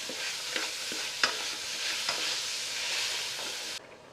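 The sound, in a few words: mutton frying in oil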